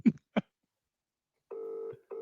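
A telephone call is being placed: two short clicks, a pause, then a steady ringback tone sounds twice. The tones are clear and no one speaks over them.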